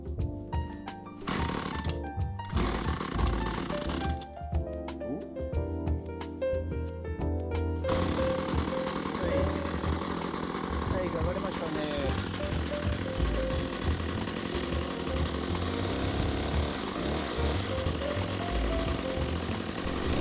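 A used brush cutter's small two-stroke engine runs steadily after restoration, a loud continuous buzzing drone with a few uneven bursts early on before it settles into a constant close-up roar.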